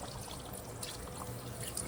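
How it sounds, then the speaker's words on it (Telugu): Water pours from a tea glass into a pot of chicken cooking for Karnataka-style green masala curry, a steady close trickle running throughout with no talk. "ఒక్క గ్లాసు ఎంత టీ గ్లాసు వాటర్ పోసుకుందాం"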